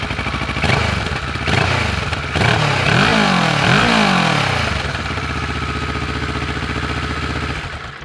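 A high-mileage Kawasaki Versys 650, a 180-degree parallel twin with almost 50,000 miles, runs close and loud, chugging at idle between two quick throttle blips that rise and fall, then settles back to a steady idle.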